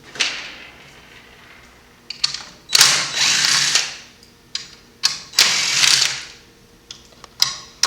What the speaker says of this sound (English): What we're using is a number 2 square drive to remove those screws.